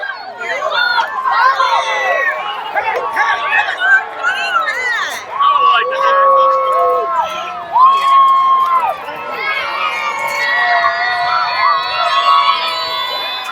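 A dense street crowd along a New Orleans Mardi Gras parade route shouts and cheers continuously, many overlapping voices and children's yells, loud and close, with chatter mixed in throughout.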